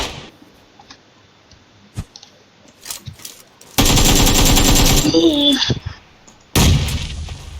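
Gunfire in PUBG Lite on the Erangel map rings out as a few scattered single shots, then a loud sustained automatic burst and another heavy burst. A player's voice talks between the shots.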